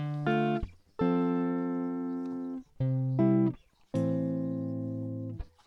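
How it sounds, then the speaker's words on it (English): Dry, unprocessed electric guitar straight from the interface, four plucked chords each left to ring and fade, close, dull and soft with no effects or talking. "So here I have the original guitar sample,"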